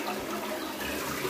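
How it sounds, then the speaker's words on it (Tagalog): A toilet flushes after its chain is pulled, with a steady rushing, gurgling stream of water that fills the whole short moment, close and fairly loud. "Then it will flush."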